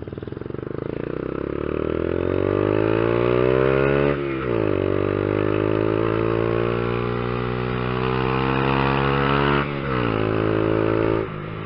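A Honda Fan 150 motorcycle (2015, ESDI) with a G-Scape aftermarket exhaust climbs a steep mountain road, its engine loud and close, revving up steadily through the gears with two brief shift dips, no talking.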